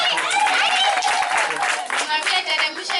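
Wedding guests at a Kabula Parish celebration clap together in a dense, steady burst of applause close by, with voices and cheering mixed throughout the crowd noise.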